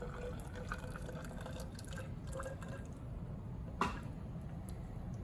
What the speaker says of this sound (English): I'll add this to my graduated cylinder